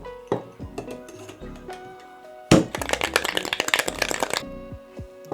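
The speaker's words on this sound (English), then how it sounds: "add in 1 ice cube and do a wet shake for about 45 seconds until you feel the chill on the back end of your shaker" A cocktail shaker holding a Chardonnay sour and a single ice cube starts with a few scattered clinks, then breaks into a loud, rapid rattle of the lone cube knocking back and forth, close up, before stopping abruptly.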